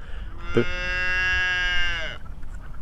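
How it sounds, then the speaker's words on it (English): A young calf on a farm lets out one long, drawn-out moo that rises and holds for about a second and a half before cutting off, fairly close, over a faint rumbling background with no talk. "Oh, that little calf."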